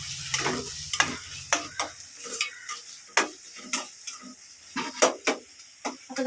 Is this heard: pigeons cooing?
no